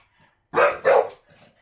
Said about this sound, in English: So then he barks at the door.